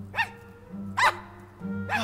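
Puppies in the Minecraft Story Mode Season 2 video game bark three times in evenly spaced, sharp yaps over a low steady background hum.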